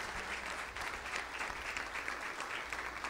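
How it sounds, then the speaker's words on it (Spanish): A church congregation gives a strong round of applause to the Lord during a Sunday service, dense continuous clapping filling the room throughout at an even level. "¿Qué te parece si le damos un fuerte aplauso a nuestro Señor?"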